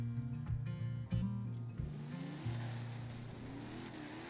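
A 1970 Dodge Charger with a supercharger blower accelerating hard through the gears while its front wheels lift, a loud, close engine roar with sharp shift breaks and a rising pitch at the end.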